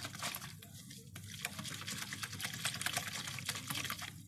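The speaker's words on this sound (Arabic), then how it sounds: "هحط فيه الدقيق اللي قلنا عليه، وهقلب كده كويس بالمضرب ده" A whisk stirs flour into a bowl of lukewarm water for a fava bean dish, giving a steady, close, wet swishing and sloshing with fast scraping strokes throughout.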